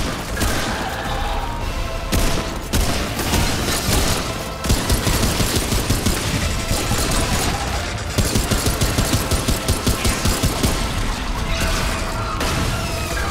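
Rapid gunfire in the video game Remnant 2, long bursts of fast, loud shots that stop briefly and start again, filling the whole stretch close up.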